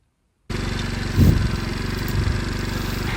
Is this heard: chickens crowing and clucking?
no